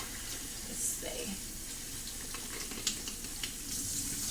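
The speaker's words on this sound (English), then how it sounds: "So you just wash your shrimp really good." Tap water runs steadily into a kitchen sink while shrimp are washed for shrimp pasta, a soft continuous splash and hiss with faint handling noises throughout.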